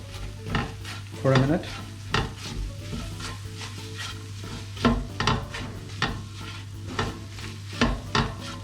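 Coriander powder sautéing in a pan for chicken drumstick curry, with steady sizzling and frying plus repeated scraping strokes of a stirring spoon close up, and a few words spoken over it.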